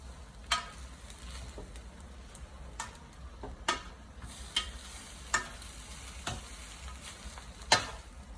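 Noodles are stirred in a sizzling pan, a soft continuous fry hiss broken by about eight sharp utensil scrapes and clacks at irregular intervals, fairly quiet and with no voices.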